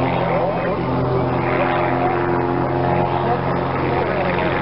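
A model Pitts Special aerobatic biplane with a 280 PS Lycoming engine drones steadily overhead in flight, a continuous buzzing engine tone at moderate distance.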